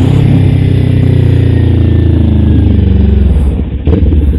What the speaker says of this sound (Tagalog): Tapos yung exhaust niya ay full system exhaust na naka-Akrapovic.